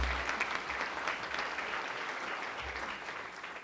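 Audience applause at a general assembly meeting, a steady wash of clapping that continues throughout and tapers slightly near the end, no voices over it.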